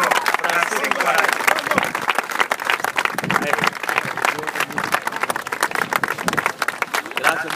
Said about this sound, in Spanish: Fuerte aplauso para el maestro Francisco Araya.